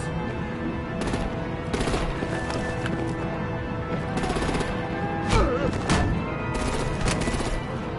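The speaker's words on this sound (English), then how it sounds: "Break out the artillery and disable their vehicles!" Gunfire and artillery from the Batman Telltale: The Enemy Within video game crackle in loud rapid bursts over a dense, constant background of game sound.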